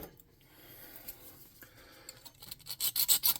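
A small saw rasps against a hand-built tabletop game model part, starting faint and scattered, then turning into loud, rhythmic back-and-forth strokes near the end.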